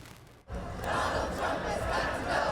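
Thousands of No Kings Day protesters marching through downtown Providence, a crowd roar of shouting and chanting that rises sharply after a quiet instant and stays loud and dense throughout.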